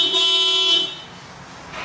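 A stock car horn sounds in one short, nasal honk lasting under a second, close and fairly loud, followed by a faint, quiet background.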